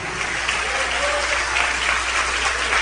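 A church congregation applauds in a dense, steady wash of clapping for a few seconds over a low hum, with no speech on top.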